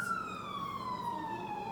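A police or ambulance siren plays as a listening-game sound, a single clear wailing tone gliding slowly downward, steady and moderately loud with faint background hiss.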